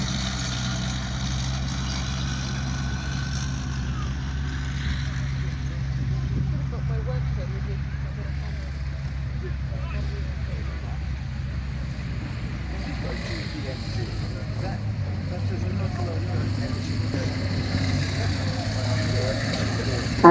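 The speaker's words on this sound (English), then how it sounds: "The motorbikes, the tracks are coming forward" Steady low rumble of WW2 re-enactment motorbikes and tracked vehicles moving forward, with a voice talking over it.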